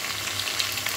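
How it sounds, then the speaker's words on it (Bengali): Spice paste ground with nutmeg and mace fries in a pan for a katla fish curry, giving a soft, steady close sizzle with small crackles. "মশলাটা একটু ভাজা ভাজা হয়ে এসছে"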